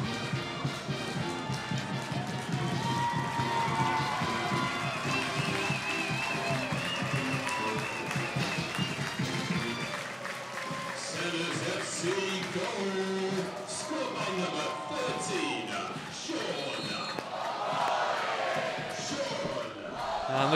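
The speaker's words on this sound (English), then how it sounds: "And the crowd appreciating the endeavour of Sean Okoli." Stadium crowd at a US Open Cup soccer match between Seattle Sounders FC and PSA Elite cheers and applauds a goal by Sean Okoli, a loud sustained roar with clapping throughout, rising again toward the end, under commentary.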